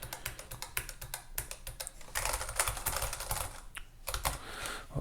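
Keystrokes clatter steadily on a Keychron computer keyboard, close and crisp, with a quick run of taps that grows denser and louder midway before tapering off.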